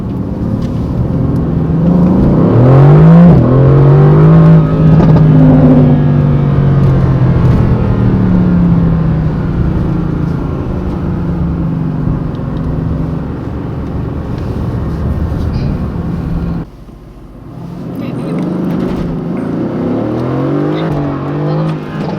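A 2018 Mercedes-AMG GT C Roadster accelerates hard at night, its exhaust roaring loud and close as the engine climbs through the revs, drops briefly on a gear change, then pulls again.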